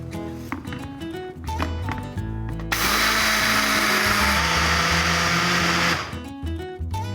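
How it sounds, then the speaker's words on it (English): A small high-powered blender mills flax seeds in a loud, steady roaring whir lasting about three seconds, preceded and followed by clattering and rhythmic background music. "It literally takes seconds to mill because it's such a high-powered little blender."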